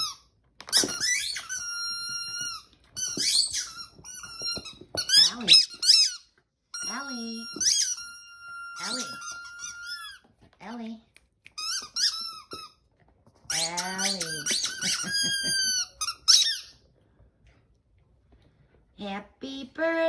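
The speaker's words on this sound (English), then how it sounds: "This is what we'll be listening to for a whole week till you get all the squeakies out." Rubber dog toys squeak in rapid bursts, high-pitched and close, with short pauses between clusters of squeals; a dog's sniffing and shuffling faintly underneath.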